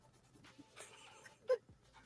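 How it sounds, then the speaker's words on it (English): An overweight dog panting while asleep, soft quick breaths close by and faint, with one brief louder snort or whimper. "your dog is very overweight and sleeping"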